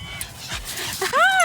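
Several dogs meeting outdoors, with high whimpers and yips and a rising, whining cry near the end, close by and mixed with a person's voice.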